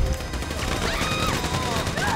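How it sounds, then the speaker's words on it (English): Rapid gunfire in a Grand Theft Auto V shootout, a steady spray of shots over dense game noise, loud and continuous throughout. "So I guess we shooting our way out of here."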